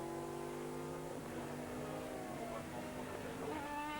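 Sportscar World Championship prototype racing on a circuit in 2000, with steady engine drone and shifting harmonic tones from cars at mid distance, continuous and fairly faint throughout.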